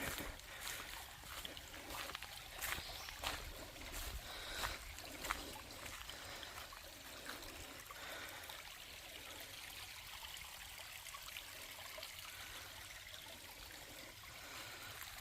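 Steady rushing and trickling of a creek crossing a trail at Raccoon Creek State Park, Pennsylvania, close by and fairly quiet, continuing evenly with small splashes throughout.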